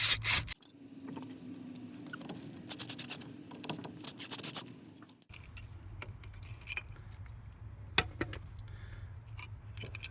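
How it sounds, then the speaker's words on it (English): Screws being backed out with a number 2 Phillips screwdriver on the steering column of a 1967 Chevy C10 pickup: close, intermittent metallic scraping, clicking and rubbing with brief jingling touches, no talking. "we'll take a number 2 Phillips screwdriver and we'll take these 3 screws loose"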